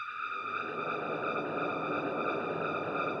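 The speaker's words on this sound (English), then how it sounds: "We've got here a frequency shifter and a ring modulator as well." A frequency shifter and ring modulator processing a sound into an eerie horror atmosphere tone: a steady, metallic, sonar-like drone with noisy hiss underneath, continuous and fairly quiet, with no voices.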